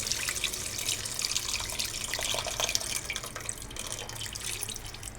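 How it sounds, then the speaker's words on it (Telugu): Water splashes and trickles steadily into a pot of simmering sambar with cooked vegetables and tamarind, a continuous close liquid rush with no talking. "కొన్ని వాటర్ పోసుకుందాము."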